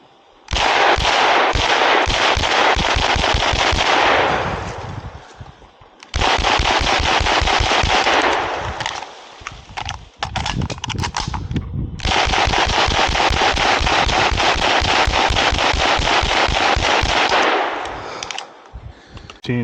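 An Uzi Model B fires in long rapid bursts while the shooter moves, giving loud, close, sharp cracking strings of shots in three main runs separated by brief pauses.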